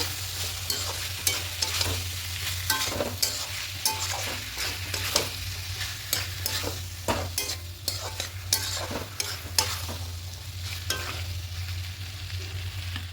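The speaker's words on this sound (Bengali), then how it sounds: "আলু মটরটি সেদ্ধ করে দিয়ে দেবো দিয়ে খুব ভালো করে আরেকটু কষিয়ে নেব" Boiled potatoes and peas are sautéed in masala for a vegetarian ghugni, with steady soft sizzling throughout and frequent scraping clicks of a spatula stirring the pan.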